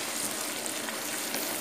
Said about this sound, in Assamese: মই অলপ ৰঙচুৱা হোৱালৈকে ভাজি লওঁ।